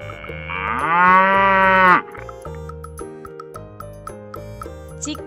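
A cow gives one long, loud moo lasting about two seconds, followed by a soft musical backing with light tinkling notes and no speech.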